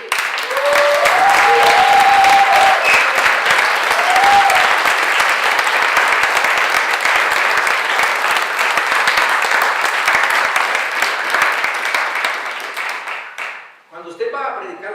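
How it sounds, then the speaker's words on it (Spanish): Loud, sustained hand clapping from a church congregation giving praise, dense and steady for about thirteen seconds before cutting off, with a brief voice at the end. "Su Dios merece una alabanza de palmas dura y fuerte."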